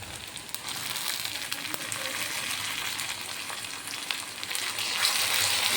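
Tomatoes, garlic and cumin paste fry in a pan with a steady, dense sizzle that holds at close range for the whole stretch, with faint crackles here and there and no talking.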